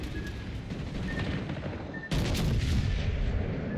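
Warship main guns fire in World of Warships Legends as a sudden booming salvo. A dense, loud rumble of gunfire follows over the steady roar of battle.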